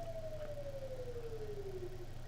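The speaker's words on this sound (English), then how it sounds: "All right, we got a siren." A single emergency siren tone sliding slowly downward, heard faintly at a distance over a steady low hum.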